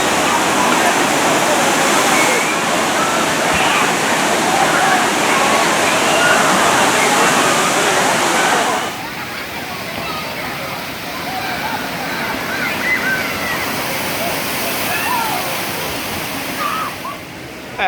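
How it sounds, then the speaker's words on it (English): Water cascades and splashes loudly and continuously as a tipping bucket dumps onto a kids' play area at Walkabout Waters in Aquatica Orlando, the roar easing slightly midway while the general park wash carries on. "we can see the bucket dumping the water."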